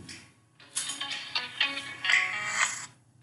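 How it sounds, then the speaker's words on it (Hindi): A mobile phone rings with a melodic ringtone that plays for about two seconds in a series of bright tonal bursts, fairly close and clear, with no talking over it. "निर्भय का फोन आ गया, इसीलिए"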